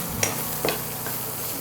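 Chopped onion dropped into hot spiced tempering oil with asafoetida, a steady close sizzle with a couple of brief stirring scrapes.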